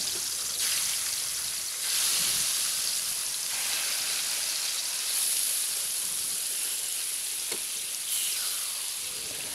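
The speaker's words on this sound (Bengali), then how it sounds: "তেল গরম হয়ে আসলে একে একে মাছগুলো দিয়ে দিব" A steady sizzling hiss of pangas fish frying in hot oil, close and continuous, with a few brief crackles.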